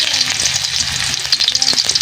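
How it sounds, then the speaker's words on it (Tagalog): Loud, continuous sizzle of aromatics sautéing in hot oil in a pan for chicken tinola, with dense crackle and faint stirring scrapes, close up and without voices. "kaya ilagay na natin yung ating mga panggisa."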